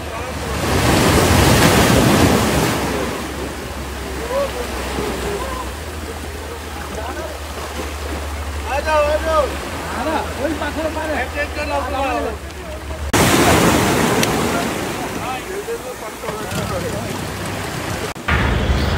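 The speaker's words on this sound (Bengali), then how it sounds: "বন্ধুরা, সেই লেভেলের কিন্তু বোটটা স্পিডে চলছে, এত স্পিডে চলছে" Speedboat racing across sea waves at Digha, with loud wind buffeting and rushing water and surf noise throughout, the engine partly masked; people's voices come through faintly in the middle.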